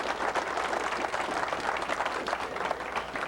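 Audience applause at the 1996 ISNE conference. Dense, continuous clapping fills the room at a moderate level throughout, with no pauses.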